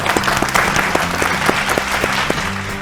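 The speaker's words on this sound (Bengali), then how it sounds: "জোরে হাততালি একটা অভিকের জন্য।" A studio audience on the Bengali family game show Sera Paribar breaks into steady, sustained applause, with dense, even clapping close up and no talking over it.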